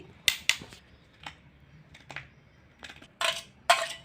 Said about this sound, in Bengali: দেখতে পাচ্ছ আমি এখন কদবেলটা বেশ চামচ দিয়ে বার করছি।